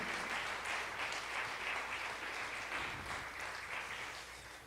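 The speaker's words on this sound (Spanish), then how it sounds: "Le damos un aplauso" A church congregation applauds together in a steady, dense wash of clapping that fills the room and slowly fades toward the end.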